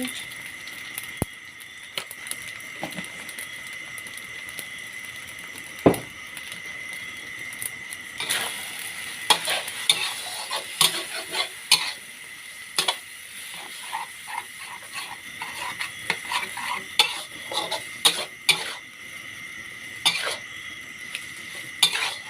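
Canned fish and fresh glass noodles are stir-fried in a pan, with scraping stirring strokes and a soft sizzle running throughout, the clatter of utensil on pan growing busier midway.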